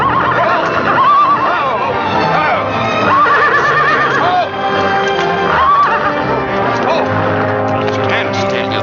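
A horse neighs loudly several times in high, wavering whinnies, mixed with music and talk around it.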